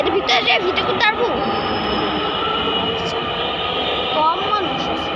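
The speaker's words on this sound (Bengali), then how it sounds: "Oh, our train is coming now." A train pulls into a station with a steady rumbling roar, wheels squealing at intervals, while people talk nearby.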